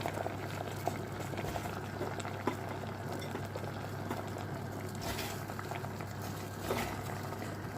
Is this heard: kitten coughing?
no